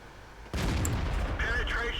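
A sudden heavy tank cannon blast in the video game World of Tanks booms over quiet background, followed by a rumbling tail and faint mechanical whine, with a voice talking underneath.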